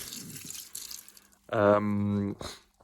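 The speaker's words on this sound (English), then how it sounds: "Maybe I'm going to just pour in the last bit of water." Water is poured into a terrarium in one steady stream of about a second, loud and close, with soft trickling before and after it.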